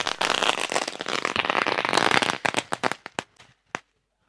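Firecrackers and fireworks going off at a cricket tournament award ceremony, a dense loud crackling barrage that thins into a few separate sharp pops before falling silent.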